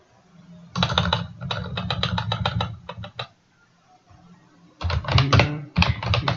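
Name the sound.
typing a full name on a computer keyboard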